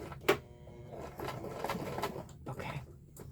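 A sewing machine stitches a lavender sachet made from a scrap napkin, giving a soft, uneven mechanical whirr with clicks and a sharp tap near the start, quiet and close, with no talking.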